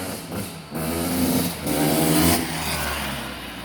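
1999 Honda CR250R two-stroke motorcycle revving up and down nearby, loud buzzy engine with rising and falling pitch across a few blips, no talk.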